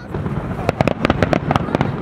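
Fireworks bursting at a Fourth of July display in Michigan, a rapid series of sharp cracks and booms from about midway on, over a steady crowd murmur with some voices.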